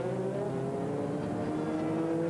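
An American Le Mans Series race car from 2001, with a reported brake problem, drones steadily as it comes into the pits, its engine tone holding a constant loud hum with no break.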